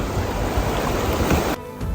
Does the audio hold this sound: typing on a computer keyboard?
no